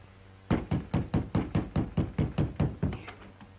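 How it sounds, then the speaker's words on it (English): Loud knocking on a door, a steady series of about eleven sharp, evenly spaced raps close by, with no voices over it. "Knock again, louder."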